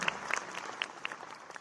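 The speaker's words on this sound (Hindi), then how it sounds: "एक बार जोरदार तालियां माननीय मंत्री जी और माननीय मुख्यमंत्री के इस प्रयास के लिए" Audience applause at a National Youth Day 'Youth as Job Creators' event: a short, fairly soft burst of many hands clapping at a distance, with scattered sharper claps standing out.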